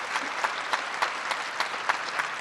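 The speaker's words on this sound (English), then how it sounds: "Let's give her a round of applause." Scattered audience applause at a Martin Luther King Jr. celebration, fairly soft with distinct individual claps standing out in an irregular patter over a light crowd wash.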